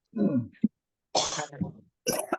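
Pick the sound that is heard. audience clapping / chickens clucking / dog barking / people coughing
people coughing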